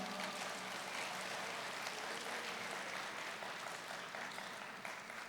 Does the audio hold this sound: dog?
no